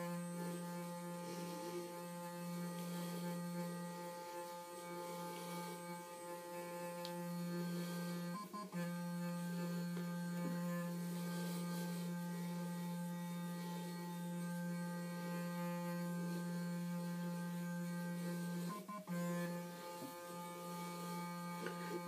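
Clarisonic Mia 2 facial cleansing brush buzzing steadily throughout, a continuous close electric drone with brief dips where it pauses, no speech over it.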